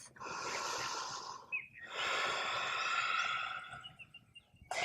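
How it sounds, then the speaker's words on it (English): Two close, audible breaths during a yoga session: a long airy exhale, a brief pause, then another drawn-out breath, with no talking. "Breathing in and out through your nose or through your mouth."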